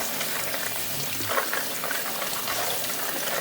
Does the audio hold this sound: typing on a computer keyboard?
no